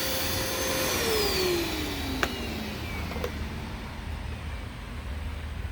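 Hoover Smartwash carpet washer scrubbing carpet, a loud steady motor whine with a pitch that slides downward as it works, broken by a couple of sharp clicks and no voices.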